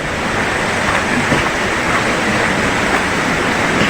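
Dao Falls waterfall and Dao River pouring steadily nearby, a dense, unbroken roar of rushing water with no voices.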